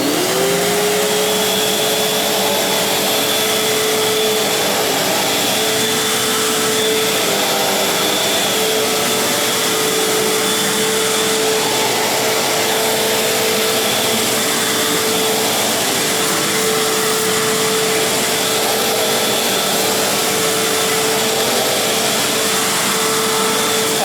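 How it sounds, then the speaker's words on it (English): A Fantom Crosswind 200XL vacuum cleaner runs continuously at close range, a steady whooshing roar with a faint motor whine. The level stays even throughout and no voices are heard. "I'm ready to start vacuuming with the Crosswind."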